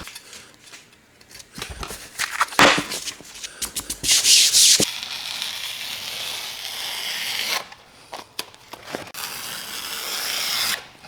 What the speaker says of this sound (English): I'm going to remove this old foam because I'm going to put new foam on there.